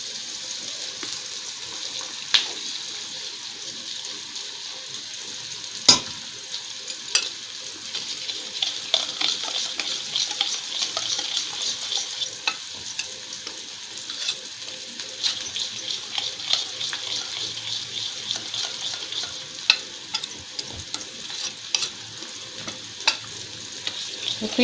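Gram flour batter for Maharashtrian pithla is stirred by hand while water is added a little at a time, giving a steady, close, wet scraping and sloshing with occasional sharp clicks of the spoon against the bowl. No one speaks.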